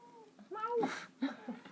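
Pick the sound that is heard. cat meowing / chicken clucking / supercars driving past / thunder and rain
cat meowing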